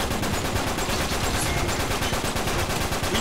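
Rapid bursts of automatic gunfire from an Uncharted 3 multiplayer team deathmatch crackle continuously and fairly loudly, with closely spaced shots and no talking.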